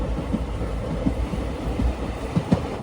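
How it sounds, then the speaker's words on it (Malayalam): The Amritha Express, Thiruvananthapuram to Rameswaram, pulls into Udumalaipettai railway station in Tiruppur district with a steady rumble and rolling wheel noise, broken by soft irregular clacks and a brief squeal near the end. "ട്രെയിൻ ഇപ്പോൾ തിരുപ്പൂർ ജില്ലയിലെ ഉദുമലൈപേട്ടൈ റെയിൽവേ സ്റ്റേഷനിലേക്ക് എത്തിയിരിക്കുകയാണ്."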